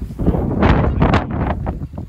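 Strong gusting wind on Sulphur Mountain in Banff buffets the microphone with loud, continuous roaring rumble and bursts, close and harsh, no voices.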